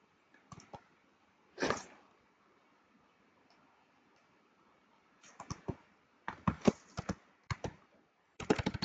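Typing names on a computer keyboard while building a table in Canva, scattered bursts of crisp key clicks separated by pauses, close and fairly quiet with no voices.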